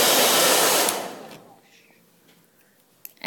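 A heat tool blasts loudly for about a second while a Jamberry nail wrap is reheated, then cuts off and leaves a quiet room with a couple of faint clicks near the end.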